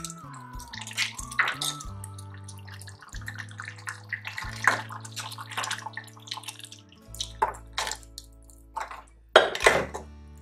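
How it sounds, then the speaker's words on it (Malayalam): Thick first coconut milk poured into a clay pot of Kerala olan, off the flame, giving soft liquid glugs and drips with occasional clinks of a vessel, close and quiet, with background music tones. "ഇനിയാണ് ഒന്നാം പാല് ചേർത്ത് കൊടുക്കാൻ പോകുന്നത്"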